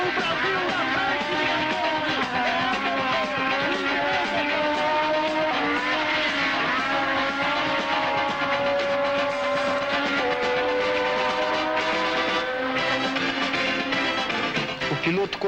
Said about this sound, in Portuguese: Vai vagarosamente a Ferrari de Hicks.